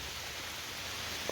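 Steady rain falls over Pine Creek Gorge canyon in Pennsylvania, a dense, even hiss with no voices, broken once by a single brief tap.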